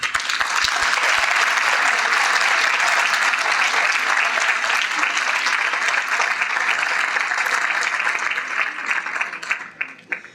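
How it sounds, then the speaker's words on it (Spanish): A lecture audience applauds to welcome the speaker Sebastián, sustained and dense clapping filling the room at steady loudness, thinning out over the last second or so. "Recibimos con un aplauso a Sebastián."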